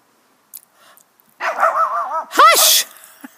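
A dog in a yard barks at dogs training in a field across the street, giving a quick burst of several sharp barks and yips at moderate distance after a brief quiet start.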